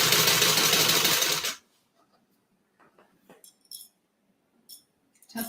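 The sides of a leather crossbody bag are stitched on a sewing machine, which runs loud and fast for about a second and a half and then stops. Faint clicks and small handling knocks follow.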